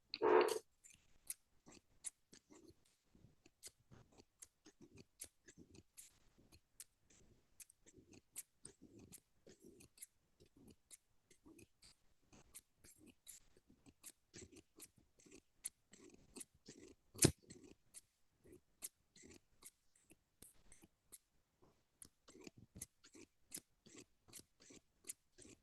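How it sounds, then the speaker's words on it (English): Scissors snip close to a fuzzy microphone in an ASMR setting, a long run of crisp, irregular close-up cuts and clicks that are very intimate and quiet, with one louder snap midway and no talk. "Let's check with our scissors again."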